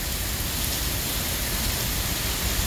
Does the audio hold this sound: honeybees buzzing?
no